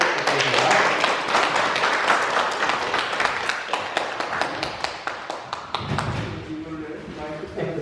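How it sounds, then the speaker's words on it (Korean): Audience applause welcoming a university professor to a public lecture hall, dense clapping at first that thins into scattered separate claps and dies out, with a voice speaking near the end. "뜨거운 박수로 환영을 부탁드립니다."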